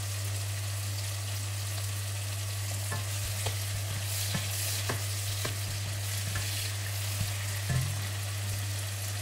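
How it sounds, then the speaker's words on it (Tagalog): Tomatoes frying in a pan for sarsiadong tilapia give a soft, steady sizzle close by, with occasional clicks and scrapes of stirring over a constant low hum. "Lutuin lang natin ng konti yung yung kamatis."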